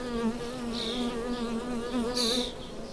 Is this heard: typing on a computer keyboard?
no